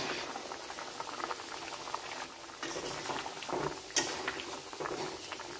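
A fish and vegetable curry with potatoes bubbling in a pot on a home stove, a close, steady burble of boiling liquid with small pops and one sharp clink partway through.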